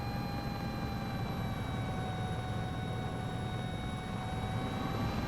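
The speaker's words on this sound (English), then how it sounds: "we are pushing the engines a little bit, but the helicopter also accelerates really, really fast." Sikorsky S-76 helicopter twin turbine engines in Microsoft Flight Simulator 2024, a steady loud droning whine with sustained high tonal layers and a constant low rumble, unbroken throughout with no voices.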